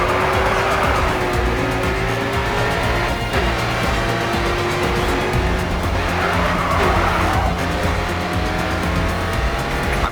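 A race car in the GRID 2 racing game roars at a constant loud pitch throughout, with long tire squeals and skidding as it corners hard, dense and close with no talking.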